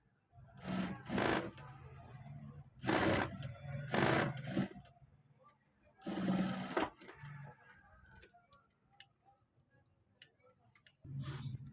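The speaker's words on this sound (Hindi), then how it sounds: "यहाँ पर फिर से हम इस तरह सिलाई लगाएंगे" A sewing machine stitches trouser fabric near a waistband with buckram, running in several bursts of rapid mechanical whirring and ticking separated by brief pauses and faint clicks, close and clear with no speech.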